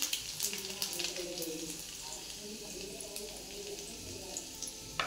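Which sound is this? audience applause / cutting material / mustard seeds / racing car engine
mustard seeds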